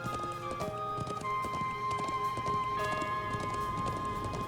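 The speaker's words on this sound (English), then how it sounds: "We have horses. All right, let's go." Horses galloping in The Legend of Heroes: Trails of Cold Steel IV, with a steady, rapid clip-clop of hooves running continuously and loudly over a game soundtrack.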